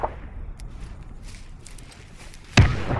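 A fragmentation grenade detonates outdoors during a Special Forces training operation: after a stretch of quiet, low background, a single sudden heavy boom erupts near the end, and its deep, rumbling blast stays loud through the final moment.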